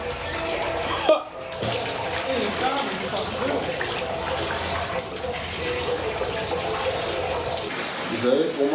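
Water runs steadily into a bath, a constant hissing rush that fills the whole span, with a brief dip near the start and a louder splash at the end.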